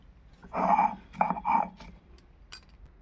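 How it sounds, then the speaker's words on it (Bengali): Cauliflower leaves ground on a stone slab with a stone grinder (shil nora): a few close, rough grinding strokes in short bursts, then quieter scraping and a small knock. "এবার এই পাতাটা বেটে নেব শিল নোড়ায়"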